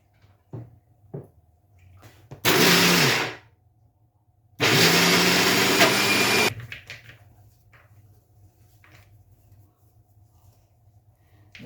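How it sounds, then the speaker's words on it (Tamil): Mixer grinder grinding soaked chana dal for kadalai vadai, two loud whirring bursts of about a second and two seconds, separated by a quiet pause, with faint kitchen clatter around them. "இப்போ கடலை பருப்பை அரைச்செடுப்போம்."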